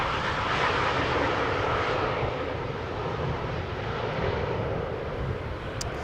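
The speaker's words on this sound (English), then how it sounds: "For a moment I was thinking, is it Captain Wheelie? But the nose wheel dropped too soon" An airliner landing at Schiphol Airport gives off a broad, steady engine roar that swells early and then slowly fades as the jet rolls down the runway, heard from a distance with no voices.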